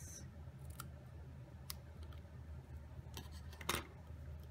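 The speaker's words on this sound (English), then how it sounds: "Grab my strips and cut from corner to middle," Scissors snipping strips of cardstock for a card banner, a few sharp isolated cuts and clicks close up in a quiet room.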